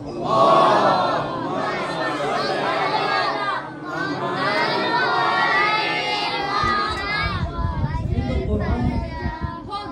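A large congregation chants salawat together loudly in unison at a Muharram gathering, a dense wash of many voices rising and falling across several seconds.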